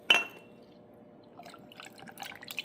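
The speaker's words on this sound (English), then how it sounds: "I'm gonna try the basil seed mango flavored drink and put some ice on the glass. Pouring some." Basil seed mango drink poured into a glass of ice, opening with a sharp glassy clink, then a soft trickle building into light splashing and ice crackles, close and quiet.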